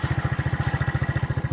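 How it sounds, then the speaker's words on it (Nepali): A Hero Super Splendor motorcycle chugs over a stony road, its engine pulsing in a rapid, even low thump, close and steady with a light rattle. "अब यत्रो ढुङ्गाहरू छ बाटोमा, यसमै बाइक चलाएर जाने मैले।"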